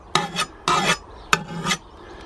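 Three rasping file strokes scrape across the bevelled cutting edge of a garden tool to remove a burr, each stroke a close, harsh metallic rub lasting about half a second, separated by brief pauses.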